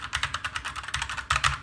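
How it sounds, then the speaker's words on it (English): Keystrokes on a cheap Chinese-brand tenkeyless mechanical keyboard, a steady run of sharp clicky taps, close and fairly quiet, with a denser burst near the end. "we've got this cheap mechanical keyboard."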